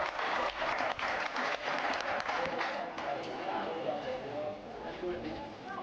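A stadium crowd claps for a long jumper at an athletics meet, the applause building into rhythmic clapping and then a steady wash while a commentator talks over it.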